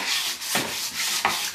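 Close, rhythmic back-and-forth rubbing of 320-grit sandpaper on a smooth cabinet surface, a soft steady scratching with a few stroke bursts.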